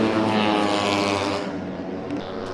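MotoGP motorcycle racing engines at Buriram's Chang International Circuit during the 2019 race, a loud, sustained droning roar with steady harmonic whine that eases slightly as the bikes pass.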